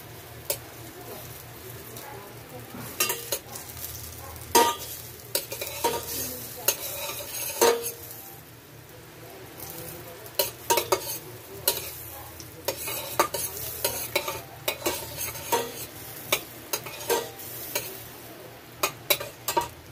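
Butter melts and sizzles in a hot pan while a utensil stirs and scrapes with repeated sharp clinks, close and busy over a steady frying hiss.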